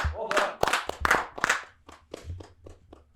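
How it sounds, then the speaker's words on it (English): A few podcast hosts clap during a mock draft episode, with brief talk at the start followed by a quick run of scattered, close handclaps that trail off. "Clap it up."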